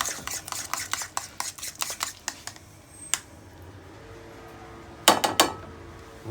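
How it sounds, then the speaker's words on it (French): Sauce being stirred and mixed with parsley in a bowl, a quick run of scraping, clinking strokes from the utensil, a lull, then a few more sharp clinks near the end. "Je mélange bien le tout et ça me fait"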